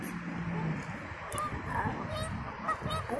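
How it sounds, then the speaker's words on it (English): Several geese honk in short bursts at a moderate distance at Lake Michigan in Chicago, their calls mixed with a person talking over them. "Oh, those are geese, not ducks."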